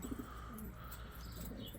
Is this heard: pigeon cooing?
yes